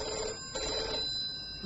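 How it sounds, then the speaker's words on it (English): An old telephone bell rings in a radio drama, two quick bursts of trilling in a row, close and clear with nothing else around it. "The phone's ringing."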